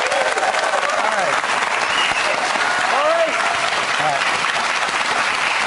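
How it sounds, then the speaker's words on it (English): A television studio audience applauds, a dense, steady wash of clapping that runs throughout, with a voice speaking over it. "Nice round of applause for everybody."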